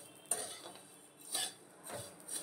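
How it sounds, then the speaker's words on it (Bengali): Fried vermicelli being stirred with ghee in a pan with the gas off, three or four distinct scraping clinks of a utensil against metal, close and dry, with quiet gaps between. "এবার এইটাকে পুরো মিশিয়ে নেবো"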